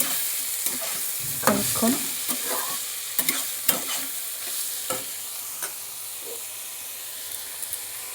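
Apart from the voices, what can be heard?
stirring ash gourd frying in a pan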